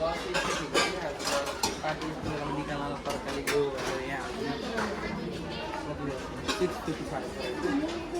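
Dishes and cutlery clink and clatter in the kitchenware section of a busy shop in Nepal, the clinks scattered and close under steady crowd chatter and people talking.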